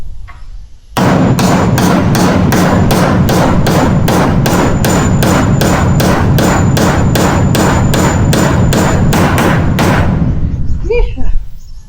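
Rapid, steady hammer blows ring out one after another for about ten seconds while a triangle farm house is built, loud and close, with brief voices before and after.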